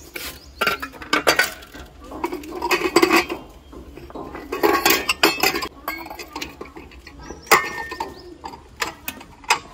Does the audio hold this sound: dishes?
yes